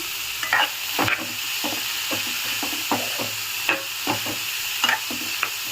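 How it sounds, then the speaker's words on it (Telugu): Carrots fry in oil in a pan with a steady hiss and sizzle, broken by intermittent scraping clicks as they are stirred. The sounds are close, with no voices. "ఒక ఫైవ్ మినిట్స్ బాగా వేపుదాము"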